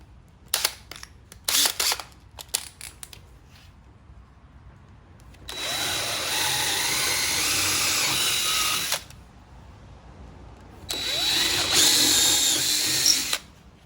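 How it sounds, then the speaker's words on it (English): Power drill with a 3/8 bit boring holes for an upcycled coat rack with glass doorknobs and railroad spikes, heard as a few short handling clicks, then two sustained loud drilling runs of about three seconds each, no talk. "And I'm going to go back in now with this 3/8 bit."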